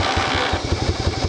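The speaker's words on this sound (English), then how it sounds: "Typical Yamaha Virago starter noise." A 1982 Yamaha Virago 750 motorcycle cranks on its starter and catches, settling into a steady, rhythmic engine chug up close with no talking.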